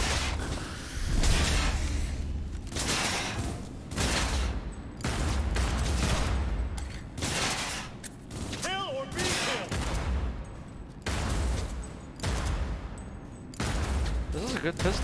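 Repeated gunfire in Cyberpunk 2077, pistol shots firing in quick bursts, loud and close, mixed with game effects and occasional voices.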